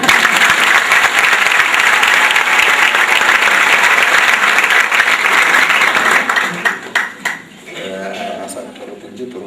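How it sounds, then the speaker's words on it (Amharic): A church congregation gives a choir loud, sustained applause after its singing at a worship service. Dense clapping fills most of the clip, then thins out into scattered claps near the end. "ስለዚህ አጨብጭቡላቸው"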